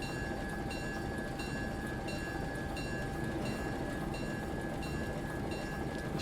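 GE 44-ton diesel-electric switcher locomotive pulling a coal train in the Railroader game, a steady rolling rumble with faint rhythmic clicks and a sustained high squeal like wheels on sharp curves, continuous and even.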